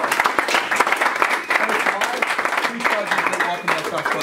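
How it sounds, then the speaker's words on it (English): An audience at a live wealth seminar closing session claps loudly and continuously for the speakers, the dense applause mixed with scattered voices and cheers throughout. "Clap it up for everyone who spoke so far, guys."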